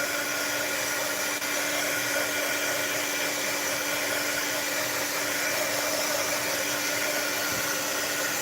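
A hair dryer or heat tool blows steadily and loudly near a craft card without a break, giving a constant whooshing roar that covers everything else.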